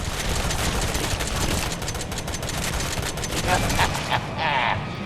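Guns fire in the video game Resident Evil 7 in a dense, unbroken barrage of rapid shots that stays loud throughout, with excited voices talking over it.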